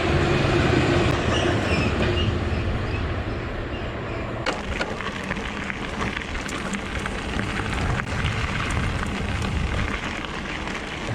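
A Freightliner Class 66 freight train rumbles past in a steady, loud wash of rolling noise, with faint clattering of wagons over the rails throughout and no voices.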